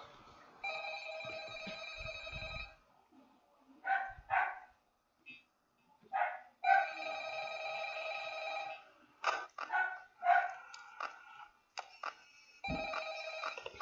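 A dog barks in short bursts, fairly near, mixed with a repeating telephone ring that cuts in and out over several seconds, with no talk.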